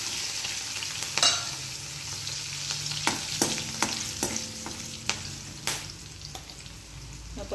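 Peanuts and chilies frying in hot oil for a tempering, giving a steady close sizzle with scattered sharp crackles and pops and the occasional scrape of stirring.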